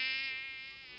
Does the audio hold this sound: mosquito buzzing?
yes